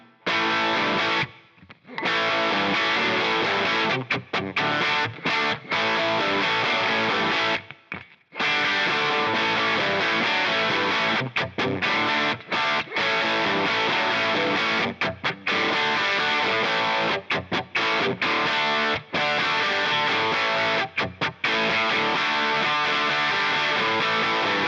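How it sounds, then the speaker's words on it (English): Heavily distorted electric guitar played through the stock 4x12 Cali V30 cabinet model on a Line 6 HX Stomp, loud and dense with riffing, broken by a few short pauses, no talking. "Here is the sound of the stock V30,"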